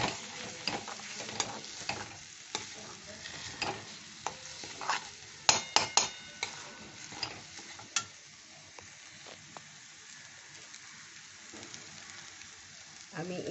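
Raisins are stirred into a thick, nearly cooked-down curry masala frying in a pan: steady soft sizzle with scraping spoon strokes and sharp clicks, clustered around the middle.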